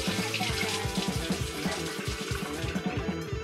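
Water runs from a faucet inside an RV hooked up to a hose, a close, steady gushing splash with a bubbling, rhythmic churn and no voices.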